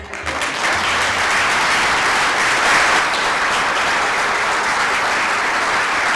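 Sustained applause from an audience at a Catalan flower-carpet makers' gathering, a dense, steady wash of clapping that holds loud and even throughout.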